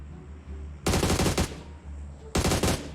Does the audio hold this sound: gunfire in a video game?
yes